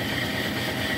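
Continuous steady whine and hum from a rebuilt Velvet Drive 71C marine transmission's planetary gears running in reverse on a test setup, an even mechanical drone with low engine rumble throughout.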